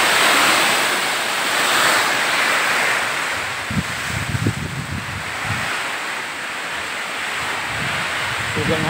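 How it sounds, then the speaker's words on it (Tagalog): A steady, roaring rush of strong typhoon wind buffets the microphone, broad and continuous, with a few faint low thumps underneath. "So grabe ka hapak ang hangin."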